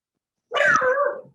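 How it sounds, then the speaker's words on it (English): A single drawn-out dog bark or yelp rings out once, fairly clear and close, starting abruptly after silence and tailing off. "Someone's dog."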